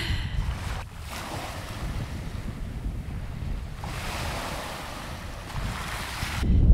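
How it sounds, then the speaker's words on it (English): Cold wind gusts across a chilly beach, buffeting the microphone in rough, continuous rushes over the wash of surf, with no one talking. "Cold wind you can probably hear."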